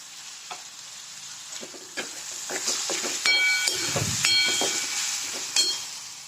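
Onions fry in a pan, a soft sizzle broken by scraping stirs and clinks of a utensil against the metal, growing louder midway, with no one speaking.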